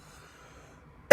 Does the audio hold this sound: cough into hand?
yes